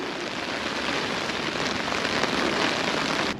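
Dense hail or heavy rain pelting steadily down on a winter carp-fishing lake, a continuous loud broadband hiss that stops abruptly at the end, with no voices.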